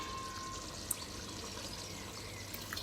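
Water poured in a thin, gentle stream into a pot of chicken biryani as it cooks; a soft, steady trickle heard faintly and close for about three seconds, with no talking.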